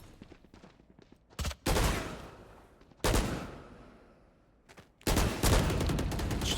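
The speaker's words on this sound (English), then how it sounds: "Shooting some pre-fire shots." Pre-fire gunshots from the video game Valorant, coming in three loud rapid bursts of automatic fire separated by quieter gaps with faint shuffling, close and sharp.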